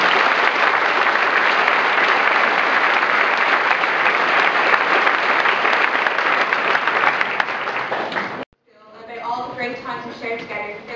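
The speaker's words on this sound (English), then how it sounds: "a round of applause is in order" A school audience bursts into loud, sustained applause that fills the room for about eight seconds, then cuts off abruptly before a speaker begins talking.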